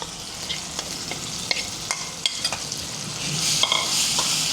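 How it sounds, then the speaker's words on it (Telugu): Ivy gourd pieces stirred in hot tempering oil with curry leaves, a steady close sizzle broken by repeated scraping stir strokes, the frying swelling louder toward the end. "ఇప్పుడు మనం తుంచిపెట్టుకుని దొండకాయ వేసి కొద్దిసేపు కలపాలండి"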